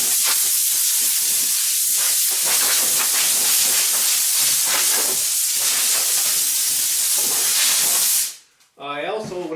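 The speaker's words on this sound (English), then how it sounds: "I'm going to do that by this little simple compressed air right here" Compressed air blasts hard and continuously as it blows sawdust off a shop table. The loud hiss lasts about eight seconds, then cuts off and someone starts talking.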